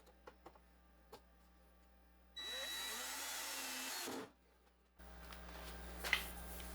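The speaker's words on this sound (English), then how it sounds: "I started by securing the workpiece of my two-sided jig with 2-inch screws." A power drill drives 2-inch screws into a wooden workpiece on a two-sided CNC jig: a steady whirring burst of about two seconds, then after a short pause another run begins, loud and close with no talk.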